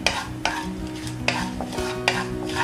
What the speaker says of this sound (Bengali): ফোড়নটাকে হালকা হাতে একটু নাড়াচাড়া করে নিয়ে